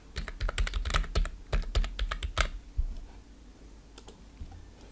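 Text is typed on a computer keyboard while laying out a Google Sites page, a close, quick run of key taps that stops partway through, leaving a few isolated clicks near the end.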